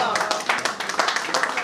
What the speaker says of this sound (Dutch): Dus dan moeten we maar applaus geven terwijl ze er is.